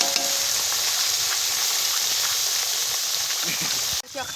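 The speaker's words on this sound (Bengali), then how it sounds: "আমার দ্বিতীয় মাছটাও ভাজা হয়ে গেলে" Fish frying in a pan, cooked desi style: a steady, loud hiss and crackle of oil runs without a break for about four seconds, then drops off sharply near the end.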